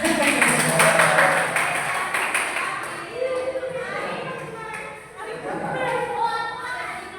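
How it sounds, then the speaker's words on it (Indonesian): Classroom applause for a student named Arin, a burst of clapping from a group that is loudest at the start and then thins out, with children's voices and chatter carrying on beneath and after it. "beri tepuk tangan untuk Arin"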